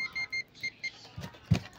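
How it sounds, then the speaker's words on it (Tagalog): A continuity tester buzzer beeps in several short, evenly spaced pulses while checking a CRT TV fuse, followed by a couple of soft clicks. "Buzzer natin yung tester."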